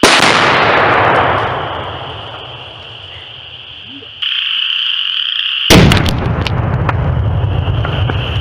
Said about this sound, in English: Those three probably took every bit of that explosion.